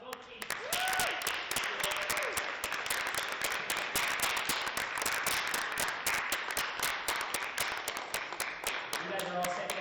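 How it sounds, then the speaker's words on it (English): Audience applauding and cheering at a high school esports league grand finals, a dense, steady wash of clapping sustained for the whole stretch, with a few voices calling out over it. "One more round of applause."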